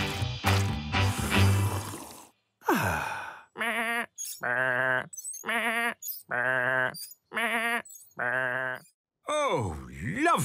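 Cartoon sheep bleat in a string of about six separate, loud, wavering cries spaced evenly through the clip, with a burst of other sounds at the start and a falling groan-like bleat at the end.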